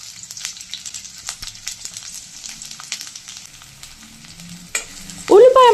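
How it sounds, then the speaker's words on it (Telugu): Onion pieces and green chillies fry in hot oil in a kadai, crackling and sizzling steadily up close with scattered spattering pops, followed by a sharp clatter and a louder burst of sizzle at the end. "ఉల్లిపాయ ముక్కలు రంగు మారేదాకా వేగనివ్వాలి."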